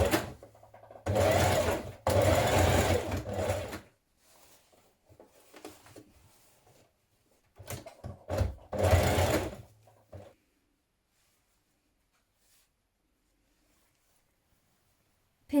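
A sewing machine stitches a children's jumpsuit seam to enclose a raw edge, running in two close, loud bursts, then a stop-start stretch of short runs and another burst before falling silent.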